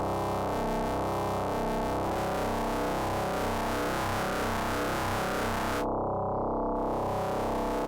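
A dense, buzzing synthesizer drone of layered ramp, sine and saw oscillator waves, harsh and distorted, shifting in texture as the tones interact, with the upper hiss cutting out briefly near the end.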